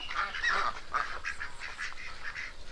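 Yi Liang ducks on a small duck farm raised for meat and breeding, giving a continuous chorus of nasal quacking and honking calls from a flock, moderately close and without talk.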